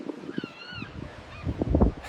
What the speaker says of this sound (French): il a généré le vent avec les cheveux au vent et le bruit des mouettes et du vent